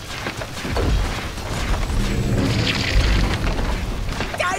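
A barracks collapsing in Dota 2, a loud, heavy rumbling boom of crumbling structure that swells and sustains for several seconds before tailing off, close and dominant with no talking.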